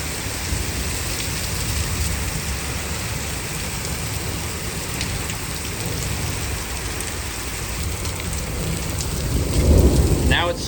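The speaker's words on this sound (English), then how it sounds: "Now it's hailing." Rain and small hail pelt down steadily in a severe spring thunderstorm, a loud, dense patter close by, with thunder rumbling low and a sharper burst of impacts near the end; no one speaks.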